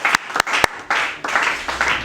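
A church congregation applauding during a Sunday service, bursts of clapping in uneven waves with a few sharp claps standing out, moderately loud and fairly close.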